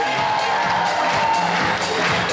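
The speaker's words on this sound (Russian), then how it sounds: "под ваши бурные аплодисменты" A large audience roars with cheering and applause at a student spring festival awards ceremony and gala concert, a dense, steady wash of crowd noise that stays loud throughout.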